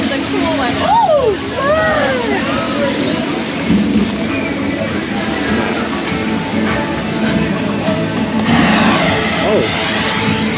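Water from a fountain feature at Epcot's Journey of Water splashes and gushes steadily throughout, loud and close, with voices talking and exclaiming over the outdoor crowd noise.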